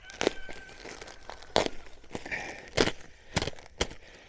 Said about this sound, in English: put in the pine bark mulch